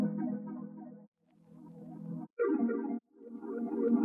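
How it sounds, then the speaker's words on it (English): A pitched-down synth key sample, chopped into segments and washed in vintage reverb, ping-pong delay and chorus, plays alone as sustained chordal phrases broken by short gaps. "And for the effects, I'm adding a sound shifter to pitch it down,"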